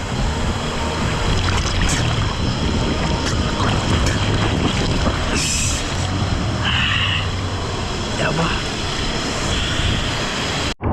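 A steady, roaring rush of falling water fills the whole stretch, loud and unbroken, with a faint hiss of wind over it.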